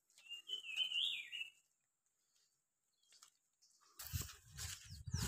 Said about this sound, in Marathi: पक्ष्यांचा किलबिलाट ऐकायला बरं वाटतं.